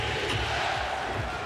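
Steady roar of a basketball arena crowd at an NBA playoff game between the 76ers and Magic at Amway Arena, a dense continuous cheer with no break over a brief moment.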